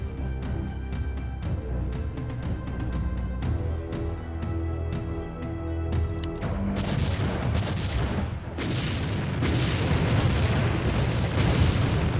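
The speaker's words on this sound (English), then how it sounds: "Tanks are really starting to rip through stuff." Tanks firing in the Empire Earth strategy game: a rapid volley of sharp gunshots gives way to dense, rumbling explosions and continuous battle noise, loud throughout with no speech.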